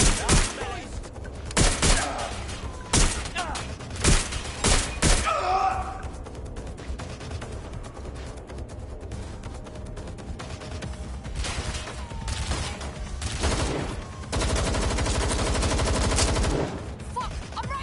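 Gunfire in the video game Watch Dogs Legion: loud bursts of rapid shots crack in clusters, then give way to a rumbling, noisy stretch with scattered impacts.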